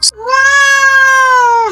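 A black cat lets out one long, loud, drawn-out meow, with a steady tone that sags slightly at the end, heard up close after a brief sharp sound at the start.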